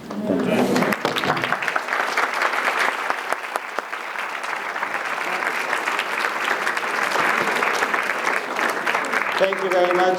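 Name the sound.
audience applause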